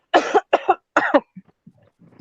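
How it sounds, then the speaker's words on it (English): A person coughs outdoors, three sharp bursts, each a double cough, close to the microphone, followed by a few faint throat sounds. "I'm coughing outside."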